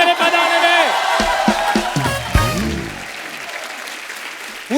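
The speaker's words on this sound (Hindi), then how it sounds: "जोरदार तालियां" Studio audience applause rises loud and steady and carries on for the whole stretch, with scattered cheers and a few whoops and shouts on top. Voices and laughter break through the clapping in short bursts.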